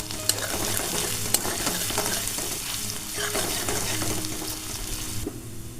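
Crushed ginger sizzles in hot oil with a pinch of asafoetida, a steady close crackle punctuated by a few sharp spatters and utensil clicks, cooking alone with no talk.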